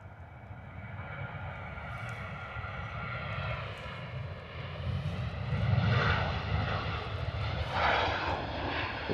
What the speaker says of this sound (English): Wow, Ryanair taking a little extra time. Typical 737 motion there, taking a bit of time to get the nose up.